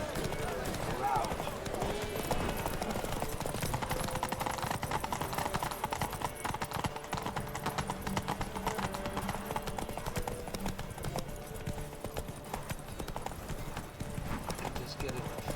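Horse hooves galloping in a race in The Witcher 3, a rapid, continuous clip-clop rhythm throughout, with a brief whinny early on and talking layered over the galloping.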